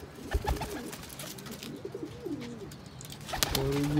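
A large male pigeon coos several times in low, soft rolling calls, nearby, with faint rustling and other birds in the background.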